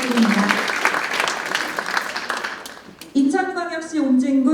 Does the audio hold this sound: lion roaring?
no